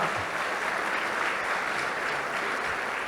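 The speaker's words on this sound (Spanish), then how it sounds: "Le dé el aplauso al Señor ahí donde está." Church congregation applause, a steady dense clapping from a crowd that fills the room evenly at moderate level with no speech over it.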